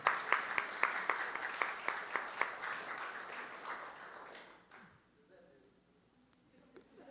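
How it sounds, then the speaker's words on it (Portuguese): Church congregation applauding the worship team, fairly faint rhythmic clapping in unison with a steady beat for about four seconds, fading out into quiet room sound with murmuring voices. "Vamos dar uma salva de palmas para a equipe de louvor."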